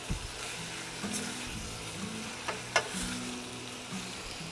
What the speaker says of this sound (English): Just give those a bit of a stir.